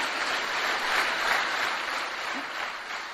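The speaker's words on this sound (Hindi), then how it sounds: "दोस्तों, कांति के लिए जोरदार तालियां हो जाए।" Audience applause at a motivational talk, a steady wash of many hands clapping together for about three seconds, holding an even level throughout without voices.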